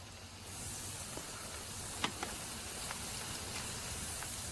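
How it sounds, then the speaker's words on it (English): Quiet, steady sizzling hiss of potatoes cooking in oil on a hot barbecue grill, with a few faint pops and crackles scattered through. "You can hear the potatoes sizzling away and smell those."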